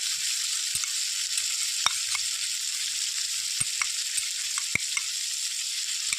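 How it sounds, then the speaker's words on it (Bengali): Onion, chili, tomato and ginger paste frying in a pan, a steady soft sizzle with scattered sharp clicks and spatula taps, close and even, with no speech. "এবার পেঁয়াজ ভাজাও হবে, লঙ্কাটাও ভাজা হবে"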